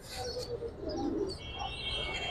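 Giribaz and pangkhi pigeons coo softly in a loft, with low, rolling murmurs and faint chirps rising and falling over steady background noise throughout.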